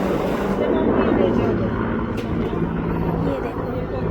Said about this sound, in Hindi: वो हेलीकॉप्टर कितने प्यारे लग रहे हैं